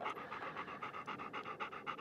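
A dog pants rapidly and rhythmically right against the microphone, each quick breath loud and close, in a quiet outdoor mountaintop setting.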